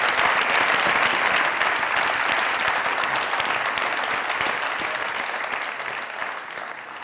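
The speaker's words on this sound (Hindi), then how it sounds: "जोरदार ताली।" A studio audience at a comedy talk show bursts into loud, dense applause that holds strong throughout and tapers slightly toward the end, with no voices rising above the clapping.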